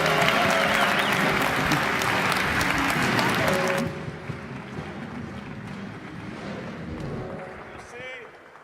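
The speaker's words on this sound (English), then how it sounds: "may I please ask you for an enthusiastic round of applause for our co-chairman, advisor, mover, shaker, and above all, friend," An audience at a conference welcome breaks into enthusiastic applause for Yossi Vardi. The clapping is loud and dense, then drops off sharply partway through, leaving a quieter murmur with a voice speaking.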